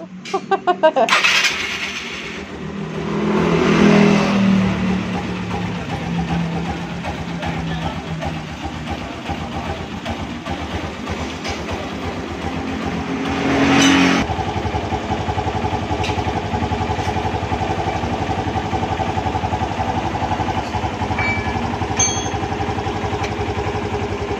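A Suzuki Skydrive scooter engine cranks and catches close by, revs up a couple of times and then settles into a steady idle, with a voice speaking briefly.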